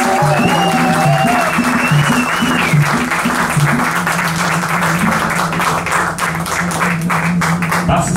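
Audience applause for a trombonist at a live jazz band concert, a steady wash of clapping that runs the whole time over the band's horn and bass lines.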